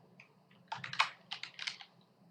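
Keys on a computer keyboard clatter in a short burst of quick taps, close and fairly quiet, with no talking.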